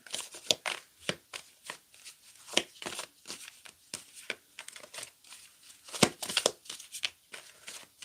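Tarot cards being shuffled by hand, a rapid series of crisp, papery riffles and slaps in irregular bursts, close but fairly quiet, with no talking.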